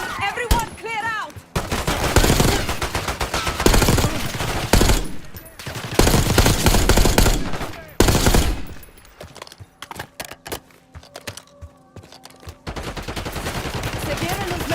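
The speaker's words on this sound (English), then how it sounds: "They're shooting! Get down!" Rapid video game gunfire in a crime shootout scene, bursts of automatic and single shots crackling loudly in several waves with brief pauses, shouted voices mixed in among the shots.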